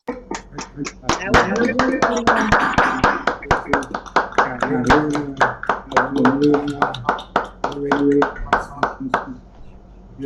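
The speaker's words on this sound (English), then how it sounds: "let's hear a warm round of applause." Audience applause over a video call during a World Poetry Day event, with many unmuted participants clapping unevenly through compressed call audio, sharp individual claps mixed with overlapping voices chatting for about ten seconds before it thins out.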